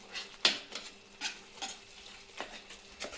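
Red amaranth curry with tomato paste being stirred in a pan, soft spoon scrapes and taps repeating at an irregular pace over a faint simmer, quiet and close.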